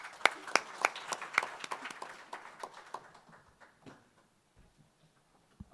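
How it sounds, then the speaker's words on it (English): Audience applause at an agriculture forum as a speaker walks up, a burst of sharp distinct claps from a modest crowd that thins out and fades to scattered last claps within a few seconds. "let's give him a round of applause as he comes up"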